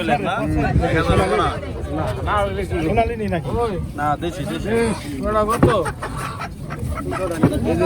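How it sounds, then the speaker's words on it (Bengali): Roosters and chickens clucking and crowing at a market on a Padma river char, repeated close calls mixed into busy crowd chatter and talk. "বড় বড় মোরগ চলে আসছে ভাই মুরগি কটা না মানে অনেক কাস্টমার"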